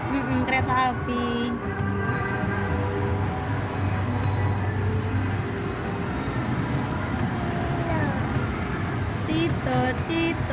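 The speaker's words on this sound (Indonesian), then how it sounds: "Wah. Kereta api." A train passes continuously with a steady rumble and rolling rail noise, with children and an adult speaking excitedly over it.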